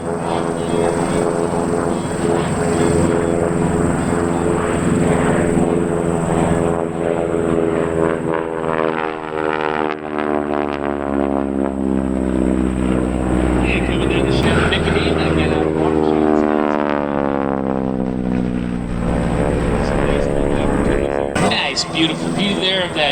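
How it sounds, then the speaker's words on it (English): A T-6 Texan radial-engine airplane flies past at an airshow in Northern Illinois, a loud, sustained propeller drone that swells and shifts in pitch as it passes, with an announcer talking over it. "T-6 is coming by first."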